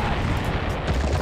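Explosion in the 1997 game Command & Conquer: Red Alert: The Aftermath, a dense, loud low rumbling boom that fills the whole moment without letup and with no voice over it.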